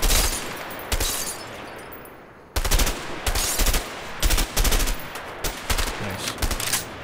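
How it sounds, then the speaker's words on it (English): Gunfire in the video game A Way Out, shooting at targets and cans: loud, rapid automatic bursts crackle one after another, with a brief lull before a fresh barrage of dense, close shots. "Let's try the guns. Lots of things to shoot at."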